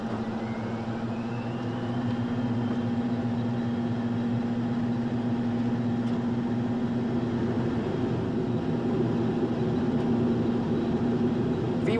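Airplane engine during a takeoff roll, a steady loud drone with a sustained tonal hum that builds slightly in the latter seconds, continuous and close with no talk.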